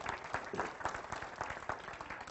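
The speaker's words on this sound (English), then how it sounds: "Big round of applause to the board and all the members of Life University that are here." Soft, distant applause from a university gathering for the board and members, a quiet, steady patter of many hands with a slight pulsing rhythm.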